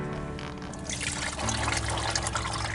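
Oil begins pouring out of a car's loosened drain plug, a close, steady liquid trickle that swells into a fuller splashing stream midway, with no talking.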